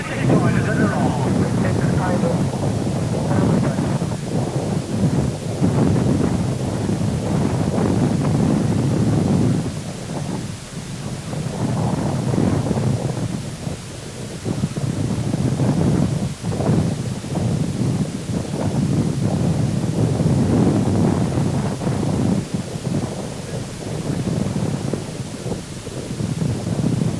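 Wind buffeting the microphone outdoors at a 1986 penny-farthing cycle race, a loud continuous rumbling roar throughout, with someone speaking over it.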